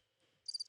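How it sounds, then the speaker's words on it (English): A short, high cricket chirp sounds as a sound effect, a quick pulsing trill at the end of near silence. "Crickets."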